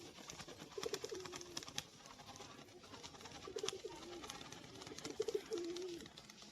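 A female pigeon of a Madras breed coos in three separate low rolling phrases, close but quiet, over faint background rustle.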